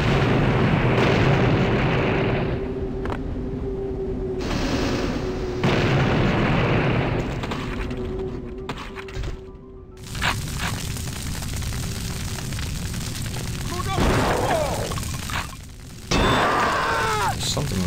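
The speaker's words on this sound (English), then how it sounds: "Turn the cannon here. Lower this platform. And start firing." Cannon firing in the video game Blood: Fresh Supply, a series of heavy booming blasts with rumbling decay, some repeating bursts and crackles, heard loud over game ambience with a voice talking at times.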